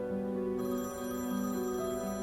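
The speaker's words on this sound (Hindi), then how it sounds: "मेरा फोन बज रहा है।" A mobile phone rings with a steady electronic tone pattern, indoors, clear and alone.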